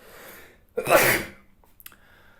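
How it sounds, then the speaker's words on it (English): A single sharp sneeze bursts out close by, a quick breathy explosion that fades into quiet room tone. "Sorry, I'm about to sneeze."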